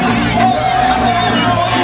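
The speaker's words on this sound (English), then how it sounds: "there's a good crowd at Paulsboro. They surround the fence here at Raider Field" A large crowd cheers and shouts steadily at a 1999 Woodbury vs Paulsboro high school regular-season football game at Raider Field, a continuous roar filling the whole stretch, with voices mixed in.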